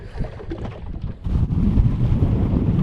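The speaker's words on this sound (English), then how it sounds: "I mean, the wind picked up heavy." Strong wind buffets the microphone with heavy low rumbling gusts, rising louder partway through and staying rough and continuous, with water sloshing beneath, outdoors while bass fishing in early summer.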